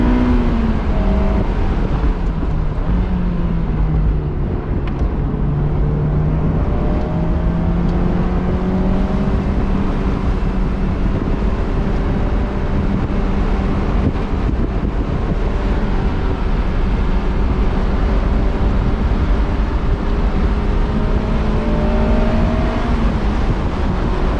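A 2007 Honda S2000 with 111,000 miles on sticky track tires drives steadily, its engine and tire roar forming a loud, continuous drone with shifting engine tones, buffeted by wind noise throughout and no talking.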